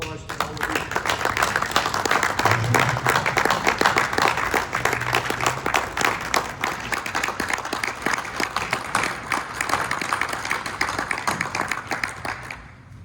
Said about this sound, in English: I'd invite the board to join me in a round of applause for all of you.